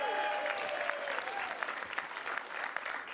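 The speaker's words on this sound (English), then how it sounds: "Let's give her a round of applause." An audience claps at a public announcement event with Governor Kathy Hochul and Senator Chuck Schumer, producing a full, even burst of applause that carries on steadily for a few seconds with no speech over it.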